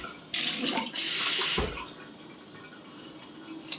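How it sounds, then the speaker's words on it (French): Tap water runs briefly into a bowl while herb galette dough is being made, a hissing pour that starts, swells and stops within about a second and a half, followed by quiet kitchen ambience. "Un petit peu d'eau."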